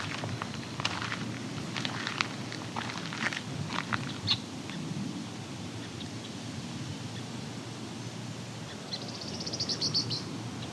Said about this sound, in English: That was a eastern meadowlark.